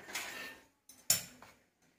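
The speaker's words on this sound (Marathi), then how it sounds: "ते घालून व्यवस्थित चमच्याने मिक्स करून घ्यायचं आहे" A spoon clinks and scrapes against a bowl while hot ghee is mixed into maida flour for karanji dough, giving a few short, close metallic taps with quiet gaps between.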